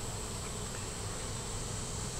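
Honey bees buzzing in a dense, steady swarm in front of their hive, a continuous close drone with no voices.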